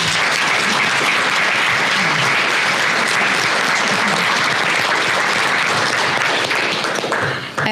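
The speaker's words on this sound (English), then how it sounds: "I want to give a round of applause to our panel members" Audience applause for conference panel members at a pharmacists' association event, a dense, steady wash of clapping that stays loud for nearly eight seconds and thins slightly at the very end.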